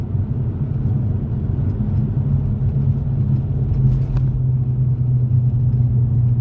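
A Nissan 350Z/G35 with cat-delete test pipes gives a loud, continuous, deep exhaust rumble with a steady low drone and no talking.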